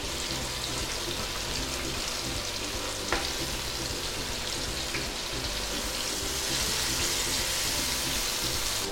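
Green chili and curry leaves fry in hot oil for a kalmas snack, giving a steady, dense sizzle with a faint click or two, close and without speech.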